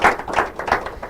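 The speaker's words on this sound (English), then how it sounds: "Can we celebrate them? Clap your hands up." An audience at a school quiz and debate competition gives a short burst of hand clapping, a few uneven claps heard close and fairly loud.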